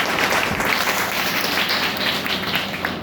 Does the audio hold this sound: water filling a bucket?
no